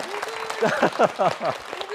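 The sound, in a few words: audience applause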